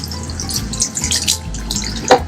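Warm water running from a tap, splashing and dripping steadily as relaxer texturizer is rinsed out of hair at a barber's sink, continuous and close with no talking.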